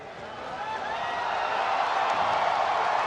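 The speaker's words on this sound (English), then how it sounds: "The crowd has come alive" Boxing arena crowd before a fight, a broad, steady roar of many voices that slowly swells louder across the whole stretch, with no single voice standing out.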